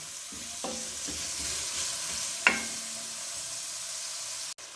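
A small onion fries in a pan alongside vegetables and chicken for Szechuan Hakka noodles, giving a steady low sizzle with a few light stirring clinks and one sharper scrape.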